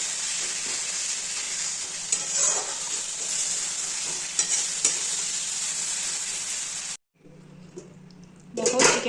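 Chicken masala slowly stir-fried in a pan for a homemade meal, a loud, continuous sizzle with scraping stirs and occasional spoon knocks, cut off briefly before the frying noise returns.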